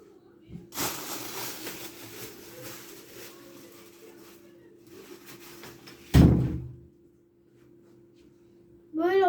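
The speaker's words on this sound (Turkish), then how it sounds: "kapıyı kapatıyorum" An indoor door shuts with a single sharp, loud thud that stands out from a softer room background with faint earlier rustling.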